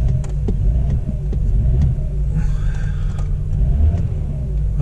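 Car engine revving during a cold-start fault diagnosis, a steady low rumble with mild rises in pitch, close and continuous throughout with no talk.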